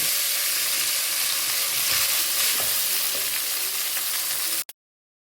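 Cooked white rice stir-frying in a hot pan, a steady loud sizzle with scraping stirs for several seconds before cutting off abruptly.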